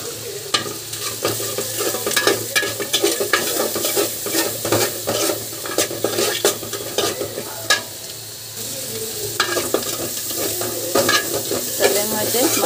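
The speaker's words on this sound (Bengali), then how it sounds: "তেলের মধ্যে মশলাগুলি ভেজে নিলাম" Spices frying in oil with fish in a pan, a loud steady sizzle close by, punctuated by frequent scraping and clattering stirring strokes, with no voices.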